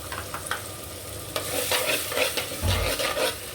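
Ginger garlic paste sautés in a pan of oil for a fish curry, crackling and sizzling steadily with scraping stirs and a low thump near the end, close and fairly loud with no talking.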